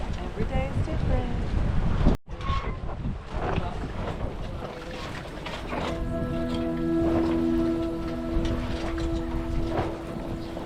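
A sailboat under sail on the open ocean during a Gulf crossing, with steady wind rushing over the microphone and a wash of water, a brief dropout early, and low tones humming through the second half.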